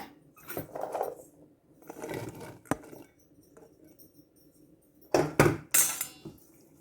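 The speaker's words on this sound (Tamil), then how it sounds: "பைத்தங்காய போடுவோம் இதுக்குள்ளே" Long beans get tipped into a cooking pan in a home kitchen, giving a few soft rustling scrapes followed by sharper clattering knocks against the pan, faint and close.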